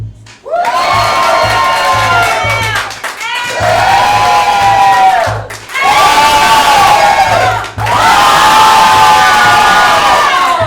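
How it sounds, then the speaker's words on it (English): A loud crowd cheers and claps for hip hop dancers at a showcase in four long surging waves, each swelling then briefly dropping off. "I am going to judge the audience applause."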